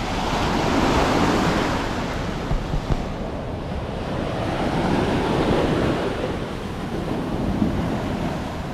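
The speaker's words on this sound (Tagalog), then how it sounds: "Ito na yung dagat mismo, pwede ka na maligo dito." Sea waves roll onto the golden sand of Patar Beach in Bolinao, Pangasinan, a loud, close, continuous surf wash that swells and eases in slow surges, mixed with wind buffeting the microphone and no speech.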